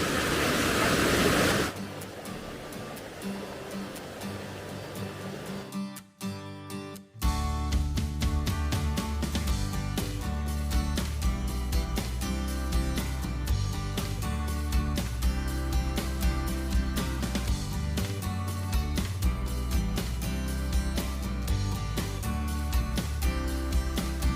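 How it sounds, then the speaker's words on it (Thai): A loud waterfall at a campsite in Khao Nam Fa, Saraburi, roars as steady broadband rushing water that fills the scene almost without pause, with a short dip in the middle before the torrent resumes at full strength. "ไม่รู้จะได้ยินเสียงเราหรือเปล่านะ เพราะว่าน้ำตกมันเสียงดังมาก"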